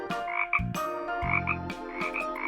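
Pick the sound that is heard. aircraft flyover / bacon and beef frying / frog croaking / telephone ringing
frog croaking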